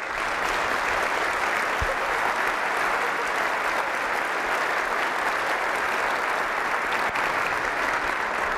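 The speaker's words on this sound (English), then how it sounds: "we'd ask them to stand and enjoy a round of applause for their son." A community breakfast audience gives sustained applause, dense and steady clapping from a large room that holds at the same level for the whole stretch.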